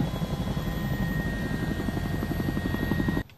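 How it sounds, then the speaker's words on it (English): An arriving medical helicopter's rotor chops steadily with a pulsing thump and a whining engine tone, loud and close, then cuts off abruptly near the end. "As these helicopters come in, there's a lot of safety concerns."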